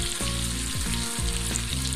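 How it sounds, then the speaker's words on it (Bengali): Hilsa fish pieces fry lightly in hot spiced oil in a pan, giving a loud, continuous close sizzle with occasional stirring clatter and a steady background hum. "আমি মাছটাকে একটু হালকা ভাজে নিয়ে এসেছি"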